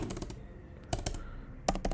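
Keystrokes on a computer keyboard while code is being written, a steady patter of close, light clicks with a few louder bursts of quick taps, no voices.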